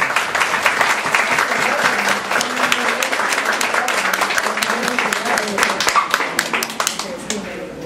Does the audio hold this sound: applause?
yes